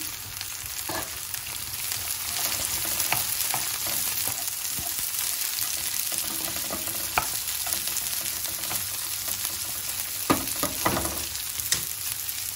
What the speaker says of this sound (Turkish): Direkt kızartmaya alıyorum.